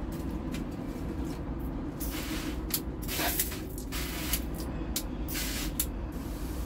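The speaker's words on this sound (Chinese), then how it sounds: "我们来把它喷雾吧。" Short bursts from a hand water mist sprayer misting freshly planted fig cuttings, repeated hisses in an irregular rhythm over steady background noise, close and moderately loud with no talking.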